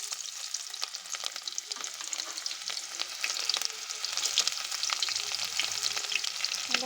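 Chopped onions sizzling as they hit hot oil with cumin seeds in a bowl for chicken curry, a steady bright crackle with scattered sharp pops, close and even, growing slightly louder toward the end, with no talking.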